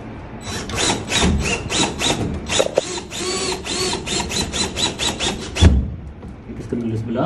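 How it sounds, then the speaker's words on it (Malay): The casing of a T8 linear LED pendant lamp is screwed on, with a rapid train of rhythmic ratcheting or driver pulses, fairly close and loud, while a voice talks at times. "Kita skru dulu sebelah."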